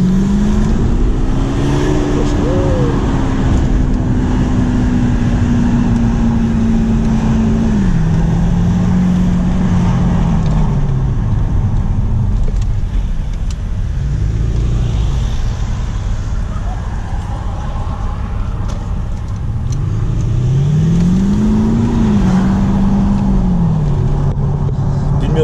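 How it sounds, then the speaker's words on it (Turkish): A car engine revs up and down repeatedly, loud and close, its pitch rising and falling over steady road rumble on the road to Bolvadin, Turkey. "arabanın sesi size geliyor mu da kayınbirader birazcık gazı gıdıkladı"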